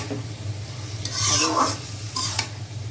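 Prawns and drumsticks stirred and fried together in a pan, a steady frying sizzle broken by a few sharp scrapes of a spatula against the metal, close up and without talk.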